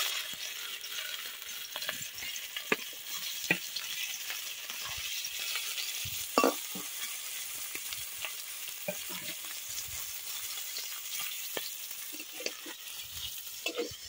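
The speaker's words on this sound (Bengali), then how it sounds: "এখন ওই তেলের মধ্যে আমি চিংড়িগুলোকে ভেজে নেব।" Prawns fry in hot oil in a wok, giving a steady close sizzle with crackling pops and occasional stirring scrapes throughout, with no talking.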